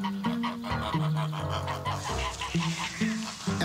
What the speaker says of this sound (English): geese are taken to market, and I mean, trying to push them through this orchard is hard enough